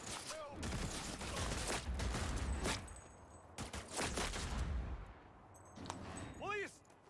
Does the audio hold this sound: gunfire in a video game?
yes